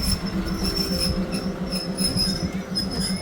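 Train 439 pulling into a station in Thailand, a steady rumbling rail noise with rhythmic low thumps of wheels and a thin high squeal running throughout, loud and close with no voices.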